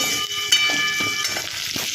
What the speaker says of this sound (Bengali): আলুটা একটু ভাজা ভাজা করে নিতে হবে